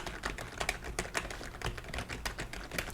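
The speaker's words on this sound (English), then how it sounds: "I'll let you guys listen so you can kind of, get an idea of how loud the keyboard is." Typing on a Cougar 500K membrane gaming keyboard, a steady run of soft, quick key presses close up, moderately quiet with an even rhythm and no voices.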